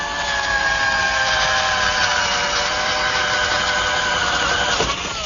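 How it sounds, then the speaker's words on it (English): Power drill boring a hole through a wooden panel in a woodworking shop, a steady whining motor with harmonic tones, close and loud, that stops abruptly near the end. "So I'm going to drill a hole first."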